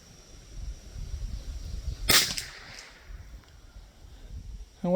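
A single sharp crack of a Bergara B14R .22LR rifle shot at an outdoor range, one brief loud report midway through, with light wind noise around it and no talk.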